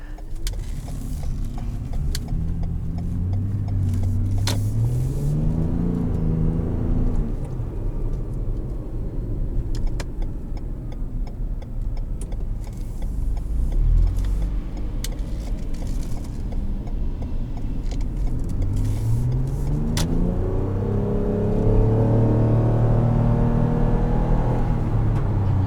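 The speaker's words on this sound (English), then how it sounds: "I love the sound that hybrids make, especially when you're under regen braking." A 2018 Toyota Highlander Hybrid Limited Platinum rolls along under regenerative braking, a steady close road rumble carrying rising and falling electric-motor whines that sweep up and down in pitch, with several brief clicks and no talking.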